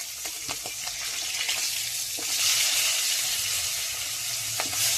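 Live shingi fish with their skins frying in a pan in a village kitchen, a steady dense hiss of hot oil broken by scattered sharp pops and spatters, close and continuous, with no talking.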